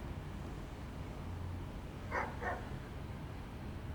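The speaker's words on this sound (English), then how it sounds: "Can you hear these fucking dogs? Yeah, you can totally hear these fucking dogs." Dogs bark faintly in the distance, two short barks near the middle, over a constant low background hum with no one speaking.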